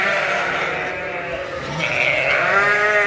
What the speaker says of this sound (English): They're sheep.